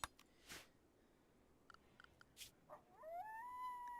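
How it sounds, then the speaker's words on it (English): An Arctic wolf in the Rimworld video game lets out one rising, sustained howl near the end. Scattered clicks and soft game noises come before it in an otherwise quiet scene. "Because it's an Arctic wolf howl."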